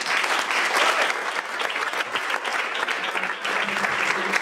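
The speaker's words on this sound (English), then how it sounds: "You really need an applause" Big, full applause from an audience at an art education exhibition opening, dense clapping that swells, dips slightly midway and rises again, with no speech over it.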